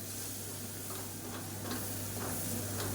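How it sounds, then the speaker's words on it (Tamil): Chilli powder and spices sizzle steadily in hot oil in a pan for a tomato green chilli thokku, with a constant close hiss and faint scattered ticks of stirring throughout. "சேர்த்துட்டு நல்லா எண்ணெயில் பரட்டி விட்டுக்கலாம்"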